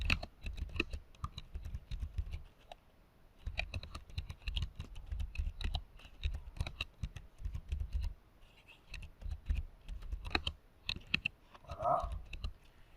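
Rapid clicking keystrokes on a computer keyboard while writing a first Rust program, typed in uneven bursts with brief pauses, close and moderately quiet, no talking.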